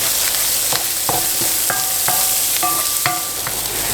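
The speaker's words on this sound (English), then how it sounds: "first I'm going to fry up some sweet onions, and then about a 1/4 teaspoon of fresh frozen ginger" Sweet onions and fresh frozen ginger frying in a pan, a constant close sizzle broken by several sharp clinks and scrapes of a utensil stirring against the pan.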